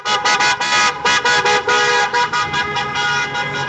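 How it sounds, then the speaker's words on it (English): Hundreds of car horns honk outside a state capitol in Lansing, Michigan, during a protest over election results, a dense overlapping chorus of short and sustained blasts that stops and restarts repeatedly at close, loud range. "People honking the horns of hundreds of cars"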